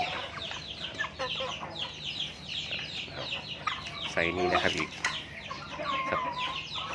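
Well-fed farm chickens cluck and chatter continuously nearby, with sharper calls rising above the flock while someone speaks over them.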